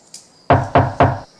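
Three firm, evenly spaced raps on a wooden door land loud and close after a brief faint sound, each hollow thud ringing out briefly.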